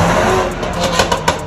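Aftermarket exhaust on a tuned car, a hollow, booming drone with a few sharp revving bursts near the end, heard up close with no talk.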